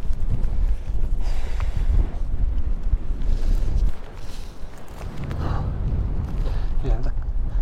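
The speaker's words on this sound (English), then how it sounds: "it's a bit breezy here. So I might just dip down, get out of this wind, or the extreme wind anyhow." Strong wind buffets the microphone outdoors in a steady, loud roar with gusty surges, easing slightly for a moment midway before building again; faint thumps like footsteps mix into the rumble.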